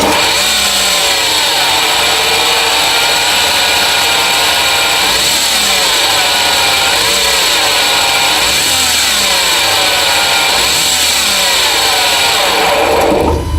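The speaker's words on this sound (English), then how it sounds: "So that whining noise you just heard is the whine of the alternator." A Porsche Macan engine runs loudly up close with a high, constant whine from its alternator layered over the motor, while the pitch swoops up and down in repeated cycles as it revs.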